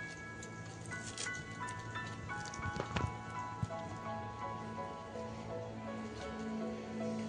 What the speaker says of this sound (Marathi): बाहेर बघा मस्त हलकासा पाऊस सुरू झालाय, हवा पण सुटली